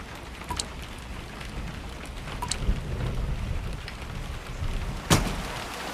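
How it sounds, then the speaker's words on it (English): A simulated storm brings steady rain hiss and low wind rumble, with a few sharp cracks and crackles of thunder, moderately loud and without talk. "There's going to be a storm."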